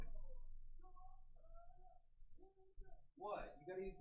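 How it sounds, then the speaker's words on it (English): A house cat meowing by a door, several short calls close to the microphone, with someone talking between and over them. "I gotta go let my cat out. His being a little terrorist by the door."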